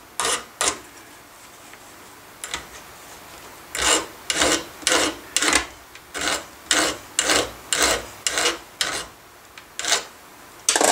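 A metal rod's nipped edges are filed smooth in a gunsmith's shop, a steady run of about a dozen close rasping strokes in even rhythm after a few scattered ones, with nothing else heard.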